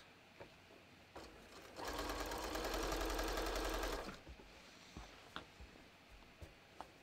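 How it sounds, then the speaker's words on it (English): A sewing machine stitches the curved edges of a bathrobe, starting suddenly for a steady, close two-second run, then falling quiet to soft scattered clicks of fabric handling. "I'm going to just sew this"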